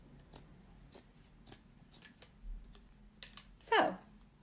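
A few crisp snips of scissors trimming a splatter screen for a pumpkin craft, spaced irregularly and fairly quiet, with one longer, louder cut near the end.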